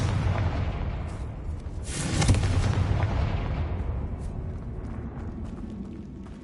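Blasting spell detonating in a Hogwarts video game, a single loud booming explosion with a crackling burst that swells and then rumbles away over several seconds.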